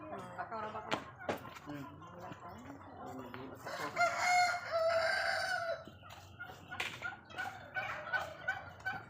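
Poultry calls ring out repeatedly, a loud turkey's gobbling burst in the middle, with voices talking nearby throughout.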